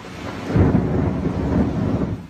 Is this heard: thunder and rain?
yes